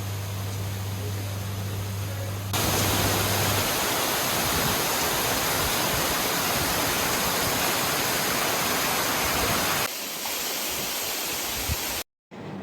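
Katika waterfall in the Araku valley pours steadily, a loud, close, unbroken roar of rushing water that fills the whole stretch with no voices.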